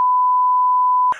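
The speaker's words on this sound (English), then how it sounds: "Beep boop." A single steady electronic beep holds one pure tone for about a second, then cuts off with a brief noisy blip at the end.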